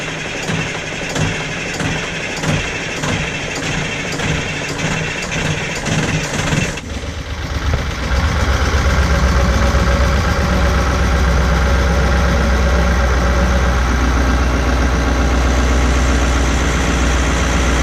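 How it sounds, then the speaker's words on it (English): A boat engine starts with a sudden jump in loudness, then settles into a steady, deep idle that rumbles on continuously, off Freeport, Grand Bahama. "now we're going to start the engine"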